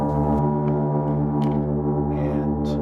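A loud, sustained low drone with stacked harmonic tones, heavily processed like an instrument run through effects pedals, blaring steadily without pause.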